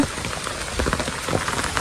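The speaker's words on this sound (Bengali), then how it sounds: "আর বৃষ্টি পড়তেছে" Steady rain pours onto a riverside road, a dense close patter of drops striking the surface with no voices and no thunder.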